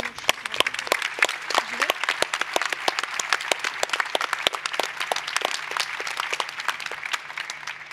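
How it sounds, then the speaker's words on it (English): Audience applause welcoming the Bayer Leverkusen and Köln teams at a sports innovation conference, a steady patter of individual claps from a modest crowd, close and distinct, continuing for several seconds. "please give them a warm round of applause"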